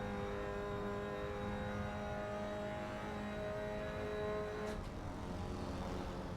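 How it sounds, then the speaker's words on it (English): A Mini race car engine in Assetto Corsa, making abnormal noises, drones steadily with sustained harmonic tones, shifting pitch near the end, continuous and moderately loud with no talking. "That car is making some noises that are not normal for a Mini"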